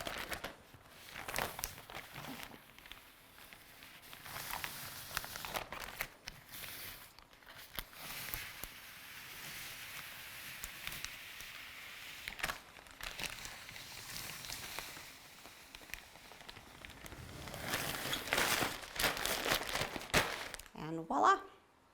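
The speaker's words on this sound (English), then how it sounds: "my hands are just flat against the wall and I'm just sliding the transfer tape flat against the wall" Hands slide vinyl decal transfer tape flat against a wall, giving faint crinkling and rubbing rustles in short strokes, with someone talking throughout.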